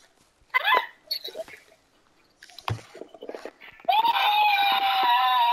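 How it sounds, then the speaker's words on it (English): A person screams loudly and sustains a high, shrill wail over the final seconds, after scattered short yelps, squeaks and noises earlier on. "Why are you screaming?"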